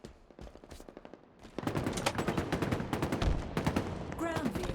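Machine gun fire in a Halo Big Team Battle match: after a quieter start with faint effects, loud rapid bursts of automatic fire rattle continuously, and game voice lines sound briefly alongside.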